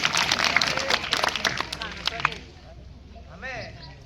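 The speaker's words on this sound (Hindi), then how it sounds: "उनके लिए एक बार जोरदार ताली" Audience at a panchayat-level student exam event in a village hall applauding a guest, a burst of dense clapping and crowd noise that fades after about two seconds into quieter murmuring.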